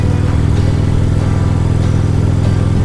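A motorcycle cruises along a quiet highway in British Columbia, its engine a loud, steady drone that holds even throughout without breaks.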